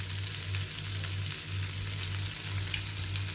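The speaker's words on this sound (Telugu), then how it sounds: "అన్నీ వేసి బాగా ఫ్రై చేసుకుందాం." Chilli powder, coriander powder and cumin powder frying together in a pan for black-eyed pea snack, a steady close sizzle with a low hum beneath, no talking.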